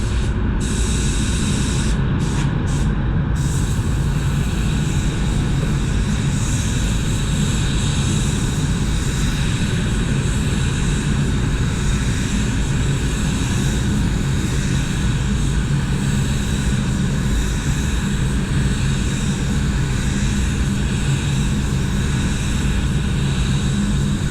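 Spray gun laying down tinted clear candy paint, a loud, steady, close hiss of compressed air and atomized spray running continuously without pause.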